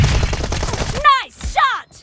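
A burst of rapid gunfire in a PUBG Mobile team deathmatch, fast crackling shots for about a second, followed by two short voiced callouts with falling pitch.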